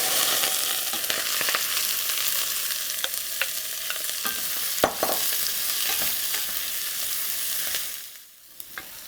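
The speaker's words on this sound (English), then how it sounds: "Now we can saute our vegetables." Vegetables sauté in olive oil in a saucepan, giving a continuous close sizzle broken by scraping stirs and clicks from a utensil. It fades briefly near the end.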